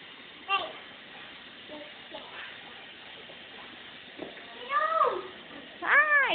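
A cat meows several times near a gate, short rising-and-falling cries spaced apart, the last ones louder and closer, over quiet outdoor background.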